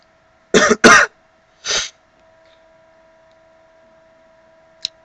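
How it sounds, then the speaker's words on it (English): A person close to the microphone gives three short, sharp coughs, two quickly together and a third after a pause, in an otherwise quiet room with a faint electrical hum and a tiny click at the end. "Also apologize for the coughing and the sniffling and this video"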